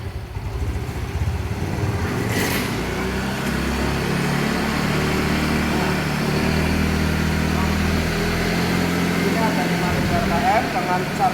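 Motorcycle engine running under load as its revs are raised toward 5000 rpm during a battery charging check, a steady close mechanical drone with a voice talking over it.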